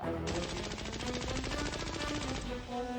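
Rapid automatic gunfire in the video game Poppy Playtime Chapter 3: a dense, continuous burst of fast, evenly spaced shots lasting a few seconds over a tonal, buzzing game backdrop.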